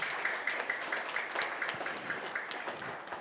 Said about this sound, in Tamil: முதலில் இந்த நிகழ்வில் பங்கு பெற வந்துள்ள குழந்தைகளுக்கு கைத்தட்டி உற்சாகப்படுத்தி வரவேற்போம்.